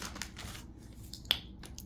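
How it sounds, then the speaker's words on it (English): Scissors make one sharp, close snip partway through, cutting open a bag of Pop Daddy dill pickle snacks against a quiet room background. "but I'm going to use the scissors."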